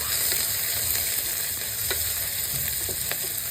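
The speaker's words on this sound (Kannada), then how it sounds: "ಕರ್ಬೇವಿನ ಸೊಪ್ಪು, ಅದ್ರ ಜೊತೆಗೆ ಮೆಣಸಿನ್ಕಾಯಿ ಹಾಕಿ ಫ್ರೈ ಮಾಡ್ಕೋಬೇಕು." Curry leaves and green chillies frying in a pan, a dense continuous close sizzle with a few sharp pops and crackles throughout.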